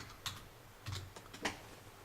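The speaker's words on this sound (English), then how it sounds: "we'll just type something in here real quick" A handful of sparse, separate keystrokes on a computer keyboard, each a soft, quick tap spaced unevenly over a couple of seconds, faint and close with no voices.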